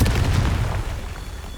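A Confringo blasting spell in Hogwarts Legacy lands as a single loud, deep boom that rumbles and fades out over a second and a half.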